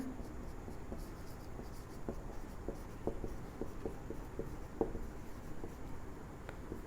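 Chalk or marker scratching and tapping steadily on a board during a physics lesson, close and continuous, with small irregular strokes and clicks and no talking over it.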